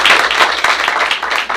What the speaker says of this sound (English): So y'all give Alex a round of applause.